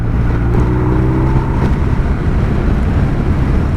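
BMW motorcycle engine, a boxer twin on an R1250 RT, running with a steady low rumble while riding through a lane, loud and close with constant drone and no talk.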